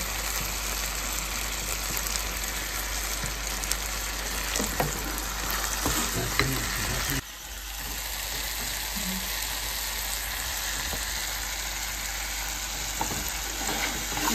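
Vegetables frying in a pan with tomato sauce, stirred now and then; a steady close sizzle runs throughout, with a brief dip partway and light scraping of the stirring utensil.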